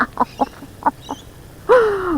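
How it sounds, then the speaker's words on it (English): Two small birds mob a big crow near Bird Cage Point, giving a string of sharp, scattered chirps and calls followed by a louder, drawn-out harsh cry. "A big crow, those two little birds."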